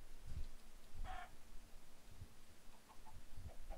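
A chicken in the video game Minecraft gives a few short clucks, spaced irregularly against a faint background hum, quiet and alone without talk.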